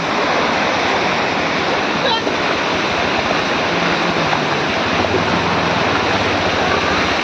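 Loud, continuous rush of water gushing from the overflowing Ghodazari lake, a steady roar filling the whole scene without pause, with faint voices barely audible beneath.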